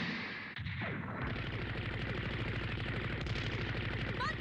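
Rapid mecha gunfire in the Gundam Wing anime, a sustained run of fast, evenly spaced shots rattling on for several seconds after a short sweeping whoosh, loud and continuous.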